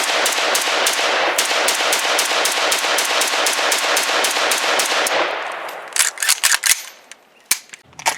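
SIG SG553 carbine firing 7.62x39 on a range: a rapid, evenly spaced string of about twenty loud, sharp shots over five seconds, followed by a few scattered, more distant cracks and clatter.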